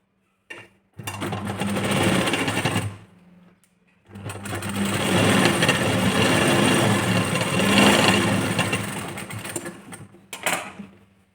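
A sewing machine stitches tucks into a blouse in two long loud runs, with a short burst at the start and a brief whir near the end, separated by pauses.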